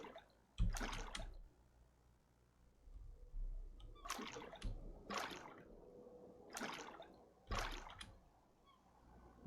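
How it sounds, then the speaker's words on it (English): Paddle strokes splashing through water in the survival game Escape the Pacific, a series of four or five distinct splashy bursts at a steady rhythm, fairly close and moderately loud, with no talking. "You hear the splash?"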